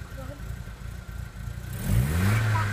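A Vauxhall Cavalier engine idles with a low rumble, then revs up near the end, its pitch climbing and holding as the engine note swells louder.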